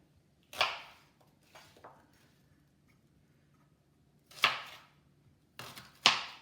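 Knife slicing vegetables for Maltese kapponata, a few sharp separate cuts spaced irregularly with a cluster of two near the end, close and crisp against a quiet kitchen.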